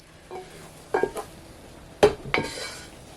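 Choux pastry dough stirred in a still-hot pan just off the heat, with a few sharp spoon scrapes and knocks against the pan in quick bursts, close and moderately loud, with quiet pauses between them.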